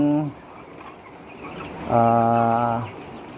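Backyard poultry kept with Muscovy ducks gives two loud, drawn-out calls close by, a short one at the start and a longer harmonic cry a moment later, over a quiet farmyard background.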